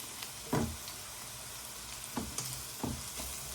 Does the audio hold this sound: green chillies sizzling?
yes